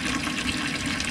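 Water drains out of a roughly 10-gallon vapor blaster tank after years of use, giving a steady, close, continuous rushing and splashing with no pauses and no talk.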